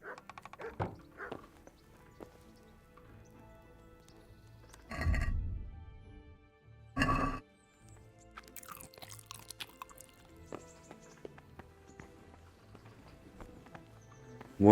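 A horse's hooves clip-clop in the video game Kingdom Come: Deliverance, soft rhythmic steps under quiet game music, with two louder thuds partway through.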